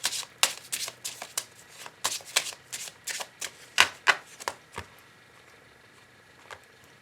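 Oracle cards being shuffled for a love reading, a run of quick crisp riffling bursts close by, tapering off into a few sparse flicks near the end, with no talking.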